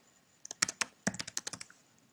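Brisk typing on a computer keyboard, a burst of about a dozen crisp key clicks in two quick runs separated by a short pause, close and clear with no talking.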